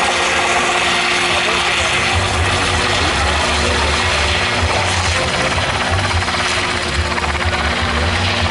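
A helicopter maneuvers during a flight display at the Coupe Icare event, its rotor and engine roaring loud and continuous with a pulsing low throb while a commentator talks over it.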